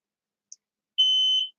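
A steady electronic continuity beep from a cheap Banggood multimeter sounds once for about half a second, clean and close, after a tiny click.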